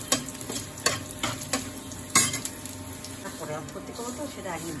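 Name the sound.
vermicelli and nuts being fried and stirred in a pan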